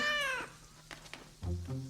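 A kitten in a cartoon gives a high, drawn-out meow, followed by a short pause with light movement sounds and then two shorter, lower mews, close and clear.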